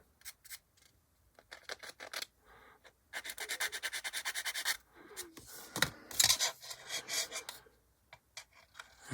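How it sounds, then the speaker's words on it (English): A coarse sander working over a 1/48 scale B-25J plastic model kit, giving intermittent bursts of close rasping strokes with short pauses between passes, fairly quiet overall. "a coarse sander works better because it won't create as much heat"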